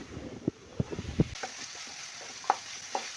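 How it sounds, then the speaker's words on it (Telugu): Bitter gourd slices frying in oil on high flame while being stirred, a soft sizzle under sharp intermittent scrapes and clinks of the spatula, close and fairly quiet. "స్టవ్ని అయితే మంచిగా హై ఫ్లేమ్లో పెట్టి మంచిగా ఇట్లా దూర మంచిగా వేయించుకోవాలి గోల్డెన్ బ్రౌన్ వచ్చేదాకా"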